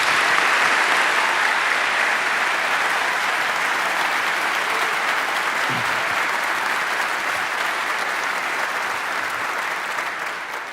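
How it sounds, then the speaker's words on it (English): A large audience at a Harvard ROTC commissioning ceremony claps loudly and continuously, a dense, sustained wash of applause that tapers slightly toward the end. "Let's give them a round of applause."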